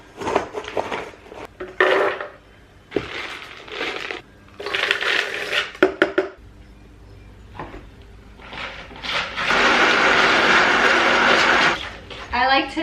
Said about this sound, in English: I like to mix this while I'm blending, just so the nuts don't get like too fine